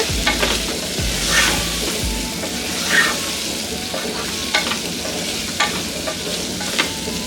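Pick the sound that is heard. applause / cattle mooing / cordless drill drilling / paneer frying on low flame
paneer frying on low flame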